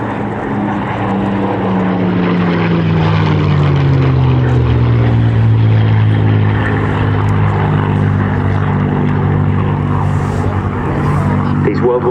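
Second World War propeller aircraft MK356 flying a display at the RAF Cosford airshow, a loud, sustained engine drone that sweeps downward in pitch as it passes close by, continuous for the whole stretch.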